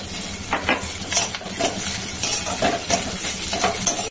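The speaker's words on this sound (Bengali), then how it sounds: "খুন্তি দিয়ে ঘেটে ঘেটে দিতে হবে।" A spatula scrapes and stirs egg with pointed gourd in a pan, with a series of rhythmic metallic scrapes and clinks over a light sizzle, and a brief spoken word near the start.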